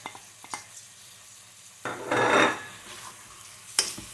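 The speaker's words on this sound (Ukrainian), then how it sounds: "Ще раз перемішуємо." A spoon scrapes and stirs through sizzling meat and spices in a pan, with a brief louder scraping burst and a few light clinks nearby.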